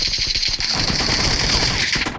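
Automatic gunfire in a shooting video game, rapid bursts that build into a loud, continuous volley of shots with no talk over them.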